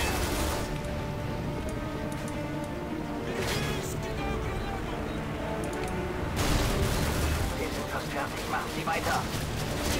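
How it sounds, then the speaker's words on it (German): A mounted gun fires in the video game Call of Duty Modern Warfare 2, with dense, rapid bursts of gunfire and crashing impacts. Someone talks over the shooting. "Das Geschütz schießt noch."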